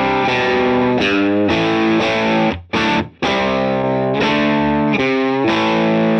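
Distorted electric guitar played through a Line 6 Helix amp modeler, loud and sustained chords with short rhythmic breaks and a brief pause midway, heard alone with no talking.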